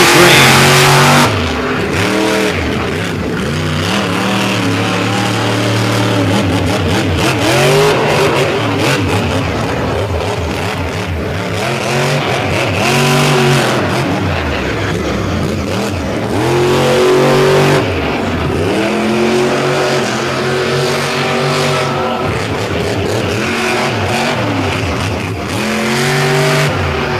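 A monster truck called the Crazy Train roars at Lake Erie Speedway, its loud engine revving and surging in repeated rising and falling bursts close by for nearly half a minute.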